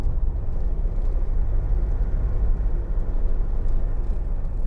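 A 2009 Jeep Wrangler 2.8 Sahara Unlimited four-door cruises along a motorway, giving a loud, steady low rumble of engine and road noise from inside the cabin, with no talking.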